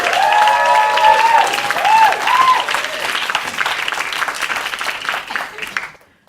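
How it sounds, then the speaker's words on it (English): A live audience at a speaking challenge event bursts into loud, sustained applause with some cheering, a tonal voice-like sound riding over the first seconds before the clapping thins and fades out at the end. "Please give a huge round of applause"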